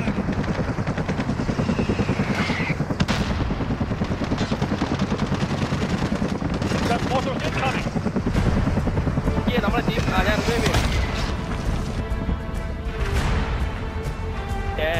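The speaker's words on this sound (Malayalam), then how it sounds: "പുറത്ത് ഹെലികോപ്റ്റർ" Helicopter rotor chop in the Modern Warfare co-op video game, a steady loud thrum throughout, mixed with gunfire-like cracks and game effects under players talking.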